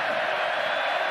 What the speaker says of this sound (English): Crowd picks up as he calls an audible